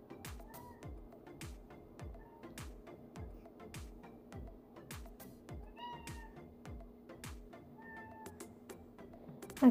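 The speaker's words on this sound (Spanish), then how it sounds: "Aquí anda mi gatita a un lado de mí." A pet cat meows repeatedly beside someone doing gel nails, giving several soft, drawn-out cries spread over a quiet room with a steady low hum and faint rhythmic ticking underneath.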